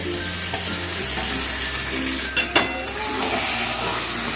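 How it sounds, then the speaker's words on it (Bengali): Mutton pieces sizzle and fry in a hot pan for a curry, a steady close crackle with a few sharper clatters as the meat is stirred, no talking. "এবারে আমি মটনটাকে দিয়ে দেবো মটনটা দিয়ে কিন্তু আমি ভালো করে কষিয়ে দেব"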